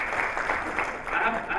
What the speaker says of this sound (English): can you please bring a big round of applause?